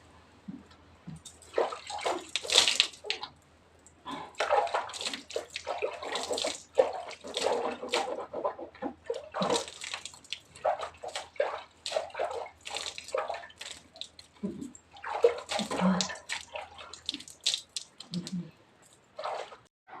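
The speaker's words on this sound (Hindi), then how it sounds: "तो यहाँ पे है कुल्ला वगैरह कर लेते हैं और मुँह भी धो लेते हैं" Water splashing and sloshing as someone rinses their mouth and washes their face at an outdoor spot by a mud house on a cold early morning, in steady bursts of splashing with brief pauses, close and fairly quiet.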